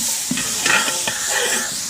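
Ground mint and coriander paste fries in a pan and is stirred, giving a loud continuous sizzle with scraping stir strokes and light clinks throughout.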